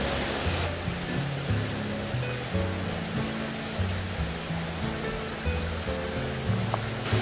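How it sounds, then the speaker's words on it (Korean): Steady rushing of a mountain stream along a hiking trail fills the whole clip, a dense continuous wash of water noise with no voices. "시냇물 소리 너무 좋습니다"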